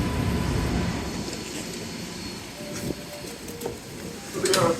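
A single Type 9 Green Line light-rail car pulls into Reservoir station in Brookline, its steady low rumble and wheel noise building under a voice, with a brighter screech near the end.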